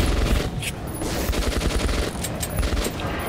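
Automatic gunfire from the video game Metro 2033 Redux rattles in rapid, dense bursts for a few seconds. The shots are loud and continuous, with no talking.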